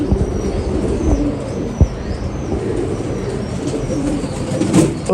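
A slate-grey female pigeon coos softly amid a murmur of other birds, low throaty calls repeating over steady background noise, with a brief thump partway through.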